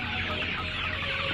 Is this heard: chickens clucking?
yes